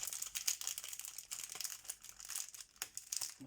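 A paper envelope is opened up close, with continuous crisp crinkling and rustling of paper in short, uneven bursts and no talking.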